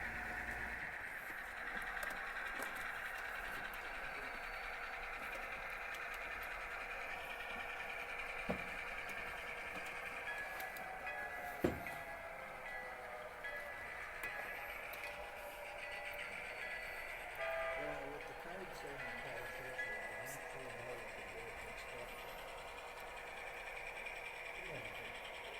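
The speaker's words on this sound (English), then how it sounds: "We're going to watch a train work the yard now." A model train working the yard on a layout hums and clatters along for a long stretch, with faint mechanical whirring, occasional clicks and soft toots, while people talk quietly nearby.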